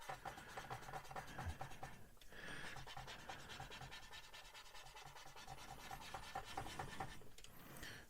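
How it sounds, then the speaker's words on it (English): Quiet rubbing and scratching as weathering is worked into a Revell Lockheed Ventura Mk II model aircraft with a rotary motion, a soft continuous friction sound with brief pauses, close and faint. "we'll just rub it back, and then go in with that rotary motion"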